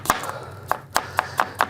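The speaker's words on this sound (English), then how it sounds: "I can see you chopping up the onion" A knife chops onion on a board: sharp, fairly quiet, evenly spaced cutting taps, about seven in under two seconds, over a faint background hum.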